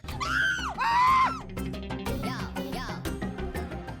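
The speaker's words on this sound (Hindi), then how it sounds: "आप क्यों चिल्लाई?" A woman lets out two sharp high screams at close range, then comedic scuffling and more shrill voices follow in a noisy domestic scene.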